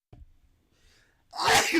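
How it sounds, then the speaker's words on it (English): A single loud, close sneeze from a man on a live gaming stream, with a short intake of breath and faint rustling before the sharp, bursting release. "Excuse me, about to sneeze."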